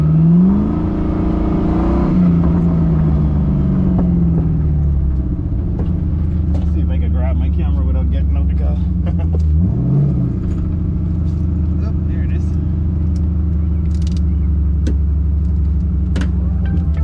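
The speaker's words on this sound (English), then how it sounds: "this 2-valve motor is running like an absolute beast" A 2-valve engine swapped in place of a 4-valve motor runs steadily with a deep, continuous rumble and a brief rev partway through, loud and close, with people talking over it.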